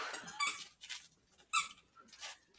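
A dog works a squeaky toy, producing a handful of short, sharp squeaks in quick bursts, fairly faint, with quiet gaps between them.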